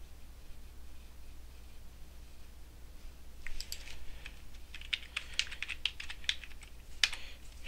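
Quick bursts of keystrokes on a computer keyboard, quiet and somewhat distant, starting after a few seconds of near silence and continuing in irregular clusters of clicks to the end.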